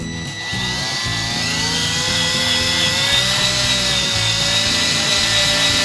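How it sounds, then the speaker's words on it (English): A steady, high-pitched electric drill whine runs continuously near the listener, with a slight rise in pitch as it bites into an aluminum panel on a Baja Bug. "just as I'm starting to drill on the surface"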